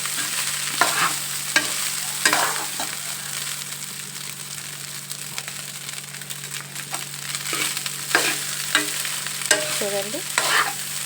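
Leftover overnight rice fried with ajwain (carom seeds) in a pan, a steady sizzle broken by repeated scraping stirs from a spoon, close and continuous with no one speaking.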